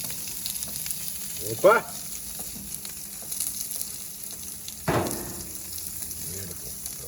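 Pork chops and pork belly sizzling on a grill with the burners on high, a steady frying hiss under a couple of louder bursts and a brief exclamation from a voice.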